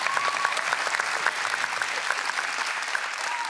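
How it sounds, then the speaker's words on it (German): A late-night television studio audience applauds continuously, a dense, steady wash of many hands clapping at moderate level with no breaks. "die Hälfte von denen klatscht schon seit Samstagabend durch, seit Thomas Gottschalk da aus dem Tor kam."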